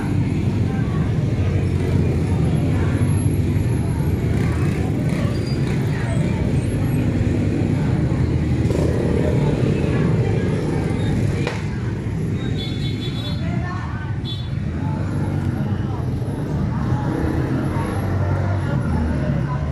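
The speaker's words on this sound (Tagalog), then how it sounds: "Dami ng motor." A busy street crowded with motorcycles, people and tricycles gives a continuous loud roar of engines and road noise, with vehicles passing close by and an occasional brake hiss, under scattered voices.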